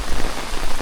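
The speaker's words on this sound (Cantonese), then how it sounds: "都唔夠1分鐘就落大雨啦" Heavy rain pours down on a hiking trail on Hong Kong Island, a dense, loud, continuous hiss of drops with no voices.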